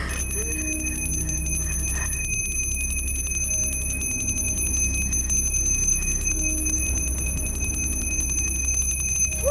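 A bell rings continuously with a bright, steady metallic tone over a low background hum.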